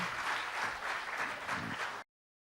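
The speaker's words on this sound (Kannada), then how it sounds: "ಇಷ್ಟ ಆಗಿದ್ದರೆ ತಮ್ಮ ಚಪ್ಪಾಳೆಯ ಮೂಲಕ ಒಂದು ಆಶೀರ್ವಾದ ಮಾಡಬೇಕು ಅಂತ ಕೇಳ್ಕೊಳ್ತೀನಿ" Audience applause at a seminar on traditional arts after a performance, a dense, moderately loud crowd clapping that cuts off abruptly after two seconds.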